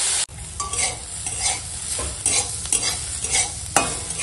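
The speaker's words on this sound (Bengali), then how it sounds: "মূলো শাকটা এরকম নেড়ে নেড়ে ভাজা হয়ে গেছে" Radish greens stir-fried with green chillies in a pan, a continuous sizzle broken by scraping stirs of the spatula at irregular intervals, close and fairly loud with no talking.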